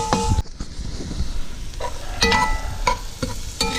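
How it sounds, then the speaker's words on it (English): Chopped jalapeno, garlic, onion and parsley sizzle and fry in a pan while a utensil stirs and scrapes, with a few metallic clinks over a steady loud hiss and no talking. "That's a little cut up jalapeno pepper, some garlic, onion, and some parsley. Just gonna pick out of the garden. I'll go ahead and saute that down."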